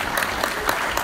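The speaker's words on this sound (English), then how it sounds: "You should be applauding all yourselves" Audience applause at a collectors' set registry luncheon, a steady wash of many hands clapping at moderate level, with a few sharper bursts standing out through the one-second stretch.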